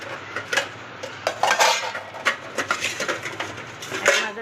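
Dishes, pots and pans clatter and clink in irregular bursts at a home kitchen sink as they are washed, near and fairly loud, with no talking.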